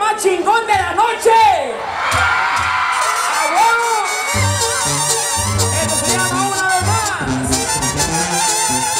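A crowd at a banda concert in Calpulalpan, Tlaxcala, in 2011 bursts into loud shouts, whoops and cheers. The band's music plays on underneath the noise.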